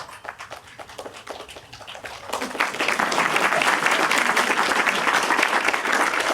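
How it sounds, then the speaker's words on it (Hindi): Audience applause at a live stand-up comedy solo show starts as scattered claps, then swells after a couple of seconds into loud, dense, sustained clapping from a large crowd that carries on to the end. "ये तालियां घरवाली के लिए हैं।"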